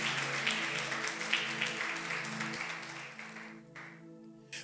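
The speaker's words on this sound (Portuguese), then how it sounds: "Você pode aplaudir bem forte o nome do Senhor." A church congregation applauds together during a worship service, a broad steady wash of clapping with sustained music or organ tones beneath, fading out near the end.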